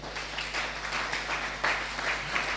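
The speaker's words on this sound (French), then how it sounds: "Acclamons le Seigneur." A church congregation applauds to acclaim the Lord, a faint, steady patter of many hands clapping together in a reverberant hall, continuous and without talk.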